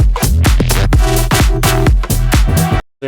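A loud, dense electronic dance track pounds with heavy kick drums roughly every third of a second under bright synth layers, cutting to a brief silence near the end.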